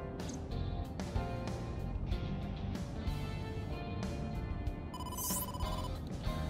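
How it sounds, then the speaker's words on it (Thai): A telephone rings inside the video game AI: The Somnium Files, a steady electronic ring tone sounding continuously over the game's background music, moderately loud and without voices. "ดาเต้โทรศัพท์มาจากบอส"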